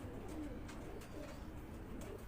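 A Kasuri pigeon coos softly several times, faint and somewhat distant, under a steady background hum.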